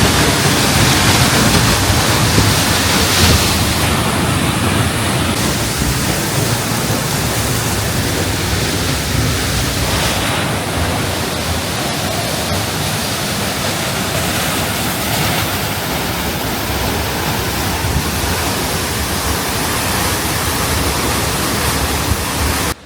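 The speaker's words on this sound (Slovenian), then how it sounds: "Sploh pa toliko veliki slapovi, kot je spodnji Peričnik." Peričnik waterfall in the Vrata valley roars loud and close, a dense unbroken rush of falling water from beginning to end.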